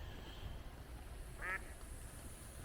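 A single short duck quack rings out once over a steady background hush of water and wind at a lake marina harbor.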